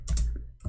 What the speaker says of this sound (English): I'm typing in Arabic